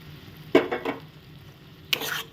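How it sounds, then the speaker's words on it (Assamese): Mustard greens (lai xaak) paste gets stirred in a pot, giving two short scraping, squelching strokes a second and a half apart over a quiet background. "এইদৰে দি পেলাই কিছু সময় লৰাই দিম"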